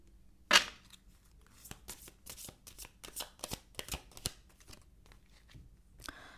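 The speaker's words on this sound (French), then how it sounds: "On va prendre une dernière carte de l'archange Gabriel." Oracle cards being shuffled and drawn by hand, a loud riffle at the start followed by a string of crisp slaps and flicks of card stock, close and clear.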